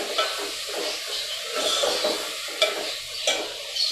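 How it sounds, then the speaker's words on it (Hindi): Okra and meat frying in a pan, with a steady close sizzle and hiss broken by stirring scrapes and a few sharper spits and pops, with no talking. "अब हम इसको थोड़ा सा हम फ्राई करेंगे।"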